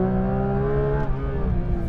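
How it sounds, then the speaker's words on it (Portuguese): Porsche 911 GT3 RS 992 trail braking into a corner, engine note held loud and steady then easing and falling away as the car slows. "Trail braking para ver se eu consigo ganhar um pouquinho de entrada"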